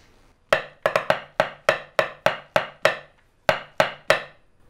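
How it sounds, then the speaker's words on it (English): A short section of march-like military drumming, about a dozen crisp, sharp strikes in a brisk, slightly uneven rhythm with a brief pause near the end, close and clear with no voices. "In this example, I've written a short section of march-like drumming,"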